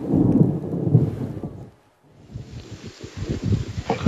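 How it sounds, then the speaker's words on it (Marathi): Unseasonal thunderstorm over fields in Yeola, Nashik: a deep rolling thunder rumble fades out, then low crackling rumbles and pattering return, loud and outdoors. "विजांच्या कडकडाटासह भर उन्हामध्ये अवकाळी पावसाला सुरुवात झालेली आहे"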